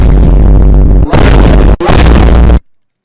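Loud explosions in the Fortnite video game: a long dense blast roar broken by two brief dropouts, then cutting off abruptly into silence.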